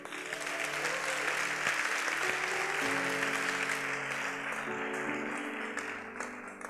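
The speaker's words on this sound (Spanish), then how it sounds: "¿Le da un aplauso a Dios?" A church congregation breaks into sustained applause, a broad wash of many hands clapping at moderate distance that holds steady, with faint voices and tonal hum beneath.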